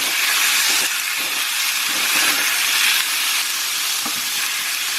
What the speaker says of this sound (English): I'm going to add my salt and give this a stir.